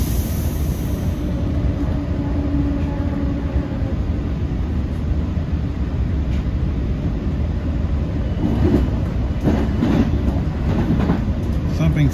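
A Long Island Rail Road passenger train running nonstop from Speonk to Jamaica, heard from on board as a steady, loud rumble of wheels and motors with faint rail clatter throughout.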